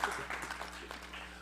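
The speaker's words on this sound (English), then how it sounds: "Give him a hand clap." A short burst of hand clapping from a small group, steady and moderately loud throughout.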